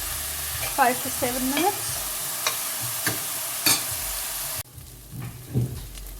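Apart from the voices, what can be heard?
onions, ginger, garlic and chili frying and being stirred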